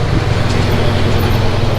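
A car passes along a road amid steady traffic. The engine and tyre rumble is a constant, fairly loud noise with no talking over it.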